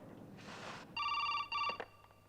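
A telephone rings twice in a quiet room, each a bright trilling electronic bell burst, the second cut short, preceded by a brief soft rustle.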